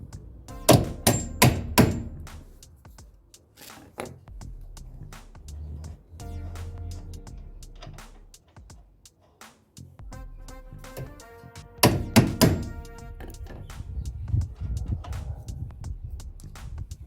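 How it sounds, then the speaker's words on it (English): A hammer strikes a bolt with a nut threaded on it during a disc brake conversion, sharp metallic clanks in quick clusters with ringing tails and quieter knocks between them. "you don't want to hit directly onto the bolt. Rather put the nut on there with some room"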